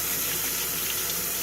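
Water runs and splashes steadily from a tap, loud and close and without any break, as a dollar-store brush for cleaning a DVD/CD drive is put into the water.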